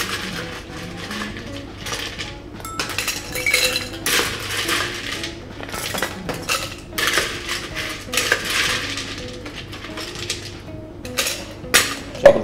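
Rapid rattling clinks of ice cubes in a metal cocktail shaker with lemon juice and bitters, irregular bursts of hard chattering strikes, close and fairly loud, with pauses between shakes.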